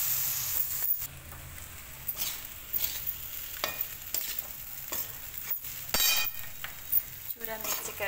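Green peas cook in a pan for chura matar, a dish eaten at Makar Sankranti. A soft sizzle runs under repeated scrapes and clinks of a spoon stirring against the pan, up close.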